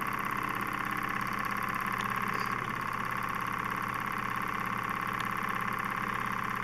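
A small vertical Stirling engine with a red flywheel runs steadily, giving a continuous, even mechanical hum and whir at close range with no talking.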